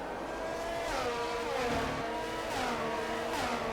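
F1 race car in the racing game F1 22 accelerating hard, a continuous high-pitched engine whine climbing through the gears, loud and steady, with no talk.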